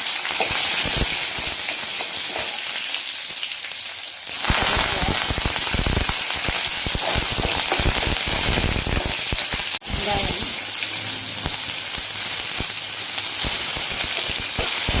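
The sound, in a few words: ginger and garlic frying in oil for mushroom gravy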